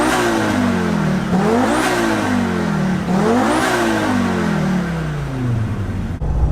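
Fully forged Audi RS2 engine fitted with nitrous revving hard to nearly 8,000 rpm, two loud climbing sweeps up to the limiter, each dropping back before fading near the end; no talk.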